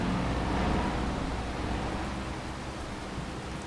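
Steady rain hisses in Farming Simulator 25, an even, dense wash of noise that fades slightly over a few seconds, with no voices.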